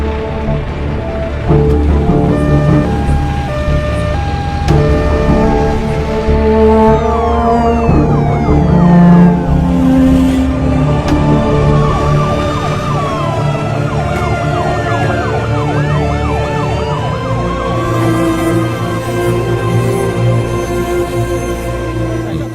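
An ambulance siren wails continuously at an accident site where a building has collapsed, loud and close, its rising and falling tones sweeping over steady road and engine noise.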